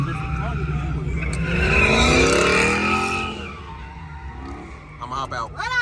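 A Dodge Charger Hellcat's tires spin and squeal as the engine revs up and sustains a loud, rising howl for a few seconds, then eases off, with a voice speaking briefly near the end.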